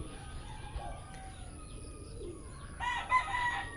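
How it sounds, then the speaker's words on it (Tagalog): Pet chickens inside their enclosure on a farm make faint, distant clucks and calls, with a short burst of crowing-like calling near the end over quiet rural ambience. "Ayan yung ating mga alagang manok na nasa loob."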